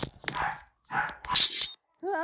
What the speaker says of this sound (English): that's Porky barking like her head off